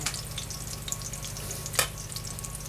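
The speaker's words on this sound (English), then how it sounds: "I'm going to brown them off" Chicken browning in a skillet gives a steady, close frying sizzle with fine crackles and one brief louder pop.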